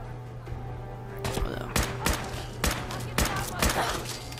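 Rifle fire with an extended magazine in Fallout 4, a series of sharp shots spaced roughly half a second apart over a steady low hum, with faint speech underneath.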